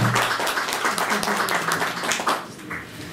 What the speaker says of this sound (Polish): myślę, że brawa